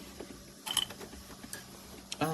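A Frigidaire EFMIS175 retro 9-can portable mini fridge runs its motor and blows air without cooling, giving a faint, steady low hum with a few soft mechanical creaks and clicks in a quiet room.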